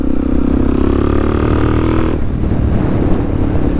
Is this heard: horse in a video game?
no